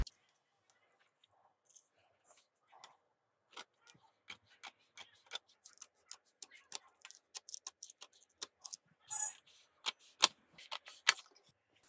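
Scissors cutting blouse pattern fabric, a sparse series of quiet snips and clicks that grow denser and louder toward the end, heard close in a quiet room.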